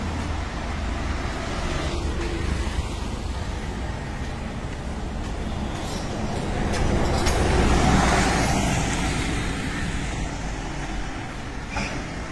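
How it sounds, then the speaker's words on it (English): Dense road traffic rolls past a bus stand near Connaught Place in Delhi, a steady roar of cars, buses and trucks that swells midway as a heavy vehicle passes close by. "This is the bus stand"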